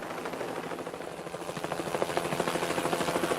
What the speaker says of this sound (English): This was no time for a chat with a helicopter.